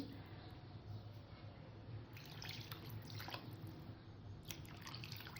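Strained water from boiling mutton is poured into a pot for mutton pulao, giving a soft, continuous trickling splash with a few brighter drips, fairly quiet against a low kitchen hum.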